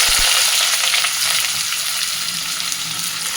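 Onions drop into hot oil left over from frying fish and fenugreek, a brief thump followed by a bright, steady sizzle that continues close and loud.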